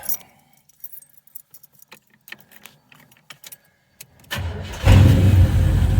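Keys jangle and click in the ignition of a 1986 Oldsmobile Cutlass Salon, then the engine cranks and fires at once into a loud, steady idle close to the microphone.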